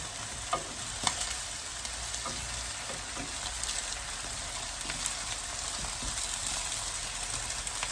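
Chicken breast sizzles and crackles steadily in a hot pan, a dense hiss with occasional small pops and clinks.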